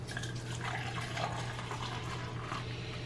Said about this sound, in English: we pour milk in there, about halfway